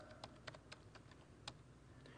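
Keystrokes patter steadily on a computer keyboard during a demo of Windows Longhorn build 4050, a run of quick clicks with a few sharper taps, fairly quiet and alone with no talk.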